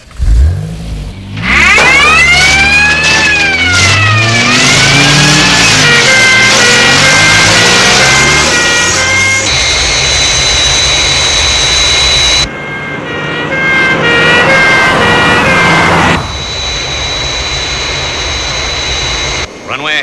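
Airport crash tender sirens wail in loud, rising and falling sweeps on runway 29, then give way to the steady, high whine of a jet aircraft coming in to land, which roars close and continuous to the end.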